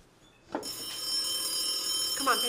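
An outgoing phone call rings through a handset, a steady electronic ring tone starting after a short click and holding on, close and moderately loud.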